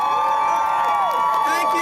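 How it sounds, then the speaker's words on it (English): A rally crowd outside Trump Tower in New York City cheers and applauds loudly, with whoops and sustained shouting voices rising over a steady roar of clapping. "Let's give everybody who is there defending our great country and what makes our country great a huge, high energy, Make America Great Again round of applause"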